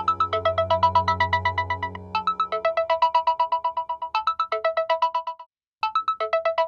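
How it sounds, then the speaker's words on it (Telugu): A phone ringtone rings loudly and close in a home scene from a Telugu short film, a repeating electronic melodic pattern of quick tones with a brief pause before it resumes. "కనకమ్మా, ఫోన్ చూడు."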